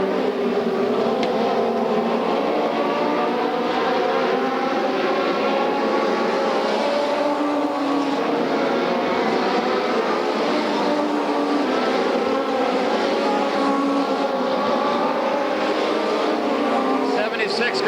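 Sprint cars race around the Bakersfield, California oval during an SCRA event, engines roaring continuously and close as the pack circles, with a race announcer talking over the steady engine noise throughout.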